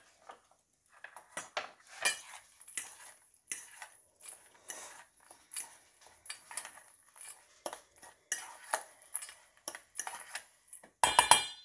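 Pecans and brown sugar get stirred in a bowl with a spoon, making a quick irregular series of scrapes, taps and clinks close by, ending in a louder rattling burst.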